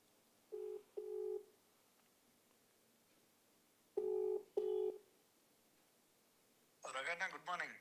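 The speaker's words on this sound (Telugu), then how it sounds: "సార్ నవీన్ యాదవ్కి ఫోన్ చేసే ప్రయత్నం చేద్దాం." Keypad tones sound as a telephone call is dialed: two short beeps, a pause, then two more, followed by a brief burst of voice-like sound at the end.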